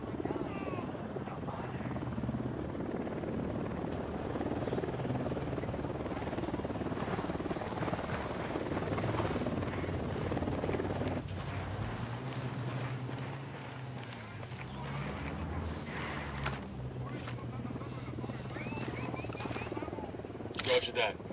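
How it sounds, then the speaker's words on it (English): A helicopter flies in the video game Ghost Recon Wildlands, its steady rotor drone running under game sounds, footsteps and a few scattered effects for the whole stretch, with voices talking near the end. "That chopper's chock full of supplies the rebels could use."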